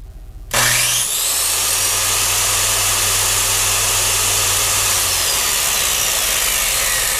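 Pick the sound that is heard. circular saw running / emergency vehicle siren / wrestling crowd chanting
circular saw running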